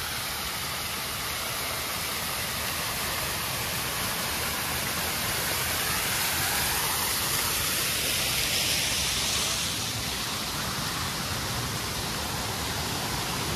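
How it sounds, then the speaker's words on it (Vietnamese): A large stream at a tourist area near Nha Trang, Vietnam, rushes as a dense, steady broadband roar, loud and continuous throughout with no voices breaking through. "cái suối này rất là lớn nha quý anh chị, suối dài ra tới ngoài đây luôn."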